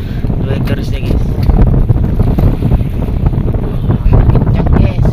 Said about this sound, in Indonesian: Wow, gelombang nih guys, gelombang besar guys. Kuat-kuat kuat anginnya nih guys.